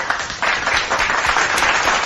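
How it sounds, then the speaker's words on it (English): Applause plays during a Clone Evolution video game stream: a dense, steady wash of clapping lasts the full two seconds at a loud, even level, with no voices over it. "let's give a big round of applause to everyone who was in the chat"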